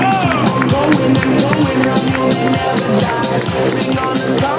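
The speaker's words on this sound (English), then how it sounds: "On continue à les applaudir, mesdames et messieurs." Spectators at the Canada Army Run half-marathon finish line keep up steady applause and cheering as runners stream in, a continuous crowd roar with a commentator talking over it.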